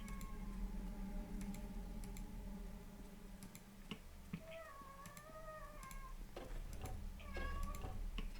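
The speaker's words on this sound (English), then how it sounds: "Don't know if you can hear my cat mewing." A house cat meows softly several times in the background, its rising tonal calls heard over a steady tick and faint keyboard clatter during a computer game session.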